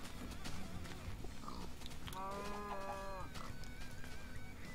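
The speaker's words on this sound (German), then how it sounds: "Alter, die Kühe sind laut" A blocky cow in the Minecraft video game lets out a drawn-out, wavering moo about a second long, faint and steady over quiet background game ambience.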